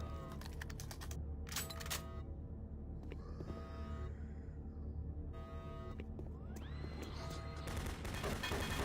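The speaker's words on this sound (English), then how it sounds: "Oh, the turret is killing me." Automated turret guns firing in Doom 3, on nightmare difficulty: rapid loud mechanical bursts of gunfire over a constant dense game background, with electronic whines and rising tones mixed in, no voices.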